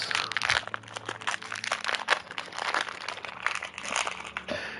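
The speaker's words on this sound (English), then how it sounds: "If you hear anything crumpling in the background, it's certainly not me opening up a pack of gushers." Crinkling plastic wrapper of a Gushers fruit snack pack being torn open, a steady dense crackle running throughout at close range with no voice over it.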